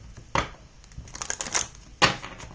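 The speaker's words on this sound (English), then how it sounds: "Let me shuffle one more time." Tarot cards being shuffled up close, with two sharp snapping bursts and lighter ruffling clicks between them, dry and papery with no voice.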